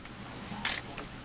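A single sharp camera shutter click from an old camera in the game What Remains of Edith Finch, a brief bright snap over quiet ambient background with a fainter second click shortly after.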